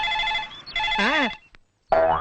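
A telephone in an old Telugu film scene rings in a few short warbling bursts, loud and close, with brief silent gaps between rings.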